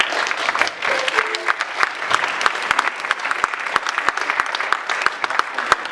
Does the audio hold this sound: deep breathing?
no